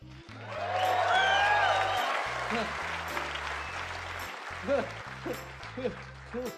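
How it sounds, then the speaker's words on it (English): A modest audience claps together at a comedy show, starting loud and full, then thinning into scattered claps while low music-like tones sound beneath. "Could have used those 28 claps."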